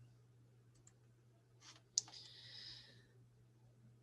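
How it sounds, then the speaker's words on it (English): A computer mouse double-clicks once, quick and faint, followed by a short soft whoosh-like chime in a quiet room with a low steady hum. "you could double click this and it'll bring it up as well"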